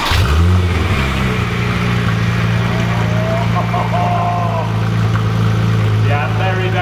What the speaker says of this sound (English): we are going to do a cold start because this thing sounds properly